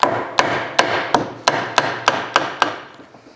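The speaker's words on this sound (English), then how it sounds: "get my copper and mallet and just give it a little bit of a tap" A copper mallet taps an engine part on a Fowler PA1 in nine evenly spaced, sharp metallic knocks. They are close and steady, each fading quickly into a faint ringing decay.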